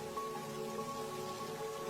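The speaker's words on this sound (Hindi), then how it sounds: "जंगल में बहुत तेज बारिश हो रही थी" Heavy rain pours steadily through a forest in a cartoon, a dense continuous hiss of falling water with a faint tonal hum underneath and no voices.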